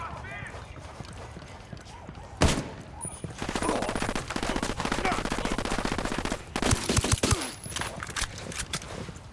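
Rapid gunfire crackles in Ghost Recon Wildlands, a sharp opening shot followed by sustained bursts of automatic fire with further loud shots, mixed with game voices and chatter.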